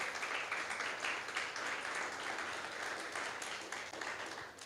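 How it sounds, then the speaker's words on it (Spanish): A church congregation applauds during worship, a steady wash of clapping filling the room at moderate distance without a break. "Dale un aplauso al Señor si lo crees"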